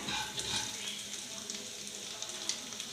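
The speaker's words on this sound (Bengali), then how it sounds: "তেলটা গরম হয়ে গেলে আমি এতে কালো জিরে ফোড়ন দিলাম।" Nigella seeds tempering in about one and a half spoons of hot oil, giving a faint, even crackling sizzle with tiny pops scattered across a few seconds.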